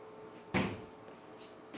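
A wooden armoire door swings open indoors with a single short, close thump and rattle, followed by quiet room tone and a faint second knock near the end.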